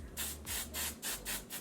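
Hairspray is sprayed onto freshly curled hair in five quick, evenly spaced hissing bursts, close and fairly soft, with no talking.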